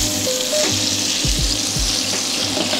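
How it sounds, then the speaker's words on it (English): A steak sizzles loudly in a pan as butter with thyme and garlic is spooned over it, the steady hiss broken by repeated wet splashes and low clunks of basting. "Baste that steak, give it some extra flavour there."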